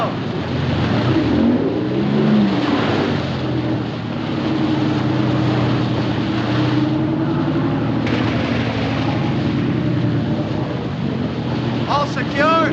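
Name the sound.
boat engine running on the water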